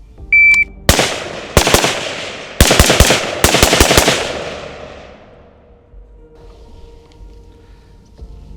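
A carbine fires four sharp bursts of rapid shots at targets 10 yards away, loud and close, with short pauses between them, a brief electronic timer beep first and a quiet fading tail afterward.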